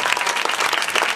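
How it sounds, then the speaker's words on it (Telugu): A church congregation claps loudly and steadily in a brisk, dense burst of applause that lasts about a second. "చప్పట్లు కొట్టండి గట్టిగా"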